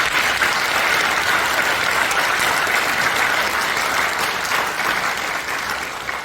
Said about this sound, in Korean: 정석 목사님께 다시 한번 큰 박수 부탁드립니다.